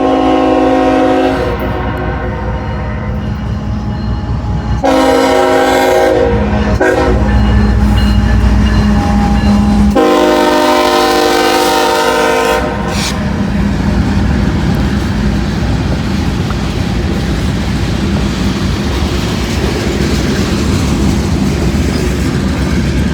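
Locomotive M558 rolls past with a loud, close horn blast in the opening seconds, then a sustained heavy roar of passing rail cars with rhythmic wheel clatter for the rest of the stretch.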